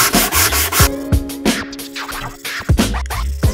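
A hard block sands the narrow edges of a wooden dovetail box by hand, giving close, loud rubbing strokes in a back-and-forth rhythm with brief pauses between passes.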